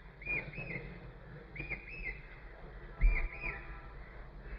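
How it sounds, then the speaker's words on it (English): A bird calls over and over outdoors, sending three short, high whistled phrases at steady intervals against a soft low background hum, moderately distant. "That bird is very persistent."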